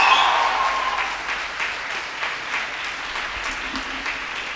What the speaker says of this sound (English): a big round of applause for the KMCH 2020 batch